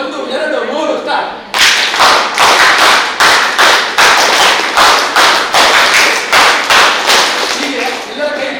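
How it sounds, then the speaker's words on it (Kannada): A group at a village panchayat gathering claps in unison, a counted happiness clap. After a brief quiet start come loud, evenly spaced claps in a steady rhythm. "ಈಗ ನಾವೆಲ್ಲರೂ ಸೇರಿ 18 ಸಂಖ್ಯೆಯ ಸಂತೋಷದ ಚಪ್ಪಾಳೆ ಹಾಕಬೇಕು"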